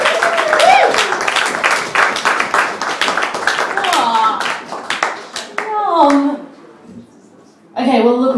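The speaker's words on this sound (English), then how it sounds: "Give the applause going to Louise." Clapping from a small audience at a poetry reading for Louise, moderately loud and uneven, thinning out as voices talk over and after it.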